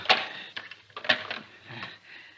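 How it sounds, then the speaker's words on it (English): A door being locked and bolted in an old radio mystery drama: a few sharp metallic clicks and clacks, close and distinct, spaced irregularly with short pauses between them. "Oh, wait, I must lock the door."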